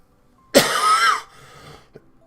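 A person with a sinus illness gives one harsh, loud cough close to the microphone. A softer throaty rasp and a faint click follow in an otherwise quiet room.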